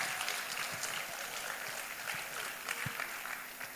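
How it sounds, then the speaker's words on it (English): Audience applause at an educators' summit in Ibadan, a faint, steady patter of many hands clapping that carries on for a few seconds. "Let's give her a round of applause first."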